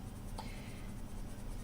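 A coloured pencil scratches faintly across Stonehenge paper in a light, steady drawing stroke, close up and quiet beneath a low background hum.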